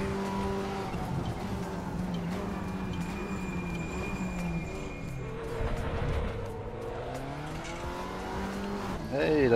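Race cars in the RaceRoom sim racing game drone steadily with engine whine and shifting pitch, a sustained mechanical roar that swells near the end, with possible faint tire noise.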